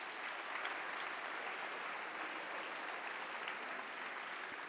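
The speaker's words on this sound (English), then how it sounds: "So a round of applause for all the mathletes this season." A school assembly audience claps for math competition students, a steady, dense round of applause from a crowd that carries on evenly throughout.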